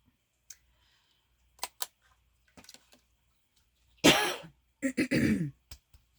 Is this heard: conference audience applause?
no